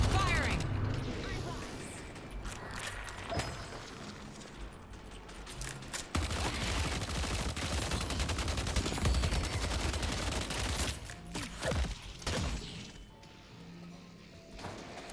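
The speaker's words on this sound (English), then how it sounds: "Don't stop firing." Sustained automatic gunfire in a video game, loud rattling bursts that run almost continuously and drop off briefly near the end, with someone talking over the shooting.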